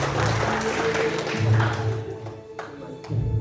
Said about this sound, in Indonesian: Tepuk tangan sekali untuk kita sama-sama